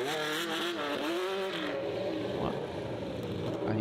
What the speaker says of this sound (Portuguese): Vai fazer um burnoutão.